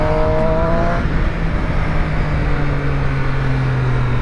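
Triumph Street Triple RS naked motorcycle engine while riding, a loud, steady drone with a sustained tone that shifts pitch as the revs change, heard close with wind and road noise.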